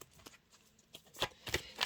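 Tarot cards are shuffled by hand in a quiet room, giving soft irregular riffles and flicks that build into several sharper bursts toward the end, close and fairly faint.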